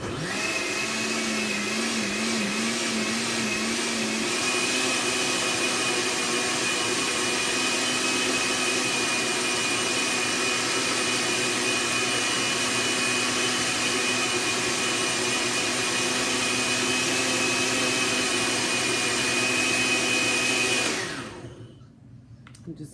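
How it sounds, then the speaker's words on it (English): A blender pulps paper for handmade paper, running as a loud, steady whine with a churning undertone for about twenty seconds before switching off and spinning down. "to turn on my blender, and it should go for about 30 to 40 seconds because we're trying to create a really good pulp to make the paper with"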